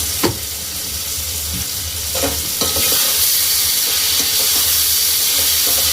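Sauce and turmeric frying in a pan for vegetarian veg manchurian, a constant hissing sizzle with occasional scraping stirs and clanks of a utensil, close and fairly loud, with no voices.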